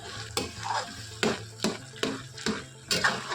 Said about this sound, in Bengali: ভালো করে ভেজে নিতে হবে যতক্ষণ না গাজরের থেকে সম্পূর্ণরূপে কাঁচা গন্ধটা চলে যায়